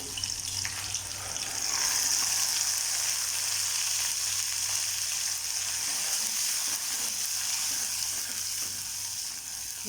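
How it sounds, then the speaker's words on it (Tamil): Ground tomato paste sautéing in oil in a pan with onions for a South Indian appalam kulambu, a continuous soft bubbling sizzle that stays even and close throughout, with no talking. "ஸோ இப்போ வந்து ஒரு 2 நிமிஷம் தக்காளி பேஸ்ட் வந்து நல்லா வதங்கணும்."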